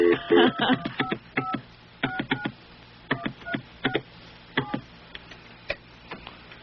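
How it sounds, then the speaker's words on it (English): Touch-tone keypad dialing a long phone number with a Philadelphia area code: short clipped tone beeps in quick bursts with pauses between digit groups, fairly near and clear over a faint background hiss. "It's hard to dial all these numbers with the Philadelphia area code."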